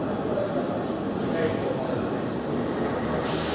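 Train at Woking station, a steady low rumble of rolling stock and platform hum throughout, with no talk and only a slight shift in tone near the end.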